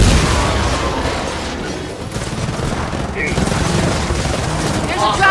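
Sustained automatic gunfire in Gears of War 4 rattles nonstop with heavy booming shots and scattered explosions, loud and dense, while voices speak now and then underneath.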